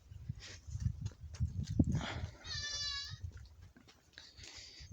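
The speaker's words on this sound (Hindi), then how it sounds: "ये बकरी है, कह रहे हैं जी 4-5 दिन से इसने कुछ नहीं खाया है।" A goat at a farm, said to have gone four or five days without eating, gives a clear bleat near the middle of the clip amid handling noises and low thumps, with no talking heard.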